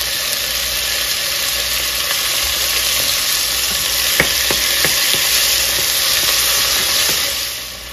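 Tomatoes sizzling and frying in a pan with sautéed onions for mutton chukka, a loud continuous hiss broken by a few sharp stirring clinks, fading slightly at the end.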